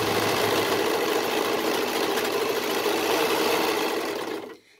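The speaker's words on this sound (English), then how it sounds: "you'll serge over it at that half inch seam allowance" A serger sews a neckband onto a knit garment, running as a loud, steady mechanical whir with a fast stitching rhythm for about four and a half seconds before stopping abruptly.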